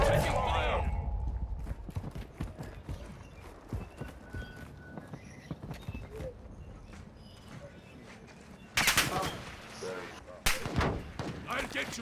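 Gunfire in the video game Call of Duty: Modern Warfare II, scattered shots and heavy blasts over clattering footsteps, with two loud bursts late on and voices talking throughout.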